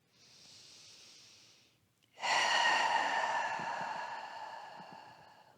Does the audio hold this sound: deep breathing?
yes